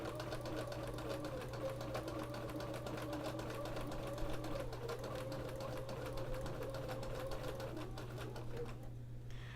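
A home sewing machine quilts through layered fabric, its motor running in a steady, continuous close-up hum with a fast stitching pulse before it stops just before the end.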